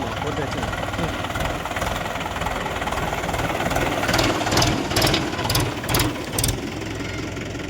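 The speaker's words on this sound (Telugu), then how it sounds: "మన ట్రాక్టర్ కూడా రావడం జరిగింది" A tractor engine runs nearby with a steady, heavy, low throbbing rumble. A few brief voices are heard over it.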